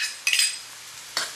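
A utensil stirs garlic into sautéed carrots and onion in a hot pan, two quick scraping strokes against the cookware over a soft sizzle.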